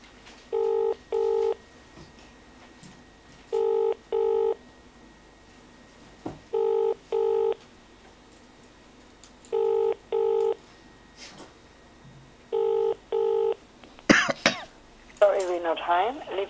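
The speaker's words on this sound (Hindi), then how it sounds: "हम कोशिश करते हैं इनके घर पर नंबर।" A telephone number is dialed on a home phone line: five evenly spaced pairs of sharp DTMF keypad tones, each pair repeating in steady rhythm, with a cough and faint background noise between them and muffled speech near the end.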